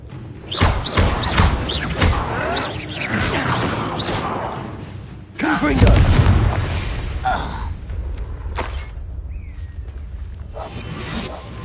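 Fiery explosive spell blasts and whooshes in the Hogwarts Legacy video game on PS4, two loud booming bursts with rumbling tails and lighter combat effects between them.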